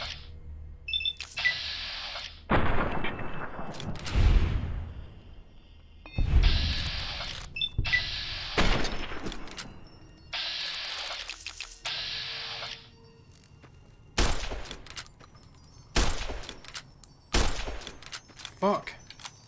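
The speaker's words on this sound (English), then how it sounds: "We use the varmint rifle." Varmint rifle fired in the video game Fallout: New Vegas, a series of single sharp cracks spaced several seconds apart, each with a short decay, mixed with ringing interface tones and brief bursts of other game noise.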